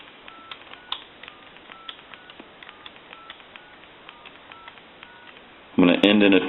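A sequence of telephone keypad dialing tones, short evenly spaced beeps in pairs, followed at the end by a louder burst of sound, during telephone repair testing with an analyzer.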